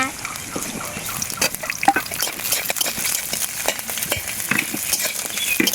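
Onion frying in mustard oil with green chillies and garlic, close and loud, with continuous sizzling broken by repeated scraping stirs of a utensil through the pan.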